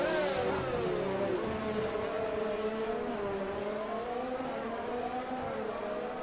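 A Formula 1 car engine in the game F1 2020 whines and revs continuously, pitch rising and falling as it shifts, sounding synthetic like a game engine.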